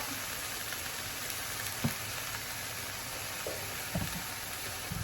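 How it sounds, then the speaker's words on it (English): A stir fry sizzles in a pan as a soft, constant, even hiss, with a few faint clinks and stirring knocks and no voices. "we throw all our flavors together and we create a stir fry"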